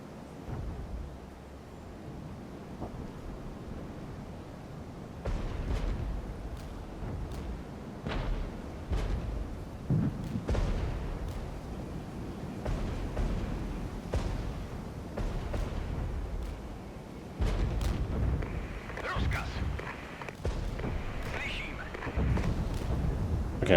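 Artillery fire and explosions from the Regiments war game, in a mass assault on German forces, sound as scattered dull booms and thumps, some sharper cracks, running beneath steady talking.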